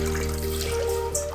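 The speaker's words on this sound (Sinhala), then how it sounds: "මේකට අපිට ඇත්තටම මේ වගේ වතුර ටිකක් අපි ඉස්සෙල්ලා මුලින්ම මේකට දාගන්නවා" Water poured into a pot to start a porridge, a brief steady gurgling trickle close by, lasting just over a second with a faint ringing tone underneath.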